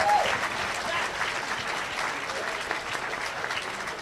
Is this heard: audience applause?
yes